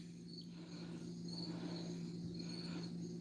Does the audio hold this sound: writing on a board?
no